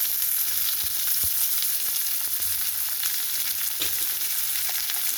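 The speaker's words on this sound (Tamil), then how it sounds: "காஞ்ச மிளகாய் எல்லாம் போட்டு நம்ம வதக்க போகிறோம்" Onion, curry leaves and green and dried red chillies sautéing in hot oil in a pan, a loud, continuous close-up sizzle with a few faint stirring scrapes and no voices.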